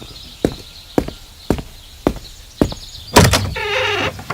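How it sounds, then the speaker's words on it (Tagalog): A door is opened indoors after a run of evenly spaced knocks or footsteps, with a sliding, rattling scrape and a sustained rolling rumble as it moves, fairly close and with no voices. "Ikaw na magbukas ng pintuan."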